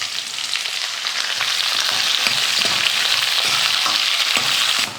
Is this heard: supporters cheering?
no